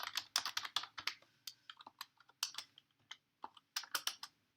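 Rapid bursts of typing on a computer keyboard, close and clear, with uneven clusters of clacking keystrokes separated by short pauses.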